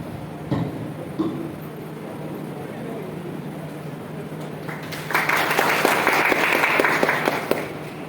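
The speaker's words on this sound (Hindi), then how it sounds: "आप लोग तालियों के साथ उनका स्वागत करें।" An audience at a women's welfare scheme event welcomes a guest with applause: a quiet stretch with murmuring and a few knocks first, then a burst of steady clapping from about five seconds in.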